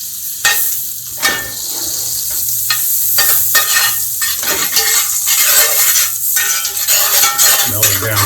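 Fat sizzles steadily in a hot pan where a piece of salmon sears in olive oil, with a few utensil clinks and scrapes over the continuous close frying hiss.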